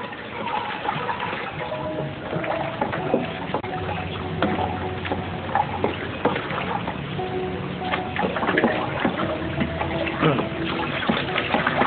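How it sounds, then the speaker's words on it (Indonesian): A liquid fertilizer mixture is stirred evenly, making steady sloshing and trickling water sounds that continue without a break, close and moderately loud. "Selanjutnya diaduk secara merata."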